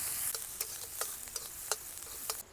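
Onions sizzle in a hot pan after mustard seeds, while a spatula scrapes and stirs, giving several sharp clicks over a steady frying hiss.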